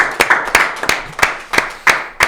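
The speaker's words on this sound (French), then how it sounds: "On l'applaudit évidemment" A few people clapping in a talk-show studio to welcome a guest, sharp separate claps in a fairly regular rhythm, close and sparse, about eight distinct strikes with no talk.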